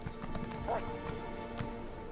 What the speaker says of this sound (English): if I press back, I'll start trotting back a little bit, and it controls a bit like I'm backing up on a horse